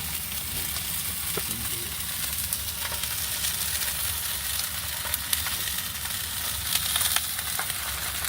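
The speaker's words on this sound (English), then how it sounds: "Listen to that. Cast iron seared." Salmon sears in a hot cast iron pan, a dense, steady sizzle and crackle with occasional pops, close and continuous for several seconds without speech.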